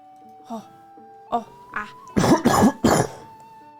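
Several chesty coughs, a few isolated ones and then a burst of three harsh, loud coughs close together, with a faint steady hum in the background.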